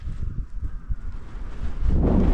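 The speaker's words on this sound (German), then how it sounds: "Zack, ist der Wind da." Wind gusts along the Pamir Highway, beginning as uneven buffeting against the microphone and then building into a loud, steady roar near the end.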